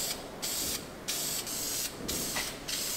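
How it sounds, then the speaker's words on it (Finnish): Spray paint can coating a car grille black, several short hissing bursts of spray separated by brief pauses, close and fairly quiet. "ihan spraymaalilla vedän ton"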